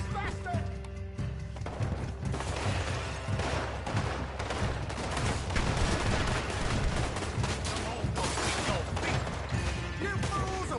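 Gunfire rattles through a Red Dead Redemption 2 shootout, sharp shots layered over a busy backdrop with horses, while voices talk over the action.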